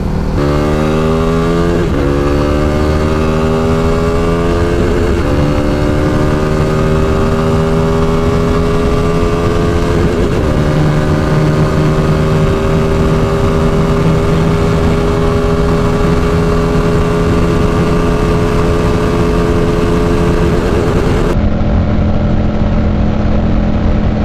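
KTM RC390 motorcycle ridden at top speed in Mexico, its engine droning loud and close through rising gear pulls, pitch climbing and dropping with each shift and then holding a steady high whine, with heavy wind rush throughout.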